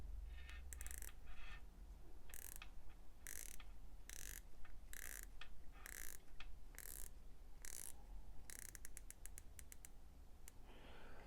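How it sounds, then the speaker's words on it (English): A 120-click unidirectional dive watch bezel being rotated, giving crisp, close ratcheting clicks in quick regular bursts with short pauses between turns, faint and alone without any talking. "The bezel is 120 click unidirectional bezel. I'll let you take a listen."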